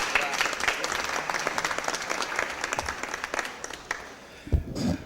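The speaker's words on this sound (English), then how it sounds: "let's give one more big round of applause for the mothers" A room of people at a city Board of Aldermen meeting claps steadily, a dense patter of hands that thins out and fades toward the end, with a brief voice or thump near the close.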